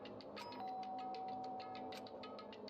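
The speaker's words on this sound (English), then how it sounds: "pressed the doorbell" A doorbell chimes in the video game Danganronpa: Trigger Happy Havoc with a sustained electronic tone over a busy, steady background of game music and noise.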